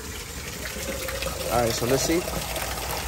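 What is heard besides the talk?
container being filled with well water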